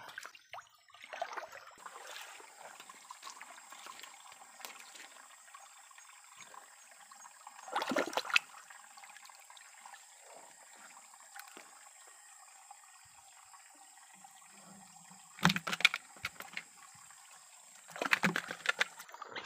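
A shallow stream at night, with soft, intermittent trickling and splashing as water moves over the shallows, punctuated by a few louder sloshing bursts, likely wading, and no speech.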